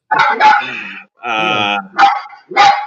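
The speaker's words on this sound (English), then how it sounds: "What kind of dog is that, Champion Heart?" A dog barks and yips close up in a quick series of loud, harsh, voiced calls, with a longer drawn-out whine-like howl in the middle before two more barks.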